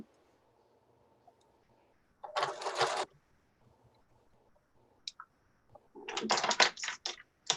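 A home sewing machine stitches t-shirt knit fabric for a face mask in two short bursts of rapid mechanical whirring, the second more uneven, against a quiet low hum.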